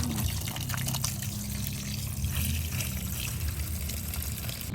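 Water poured over a bike being washed, a steady broadband splash and trickle running continuously at close range with no talk.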